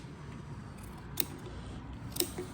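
Scissors snip through fabric while recovering diamond-pattern rails, cutting around a screw hole; two brief, quiet clicks of the blades over a low background hum.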